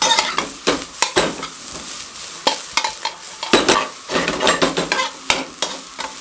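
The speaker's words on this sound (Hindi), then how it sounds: "इस तरीके से अच्छे तरीके से सब चीज़ों को हाई फ्लेम पे मिक्स करेंगे" Chicken fried rice is tossed and stirred over a high flame, with a steady sizzle under rapid, uneven scraping and clinking strokes of a utensil against the pan. The strokes are close and fairly loud, and no one speaks.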